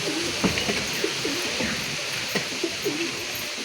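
Kaldama and Bholmara pigeons coo in repeated soft, rolling phrases, each call starting with a short burst. Steady background noise runs under the calls, and no one speaks.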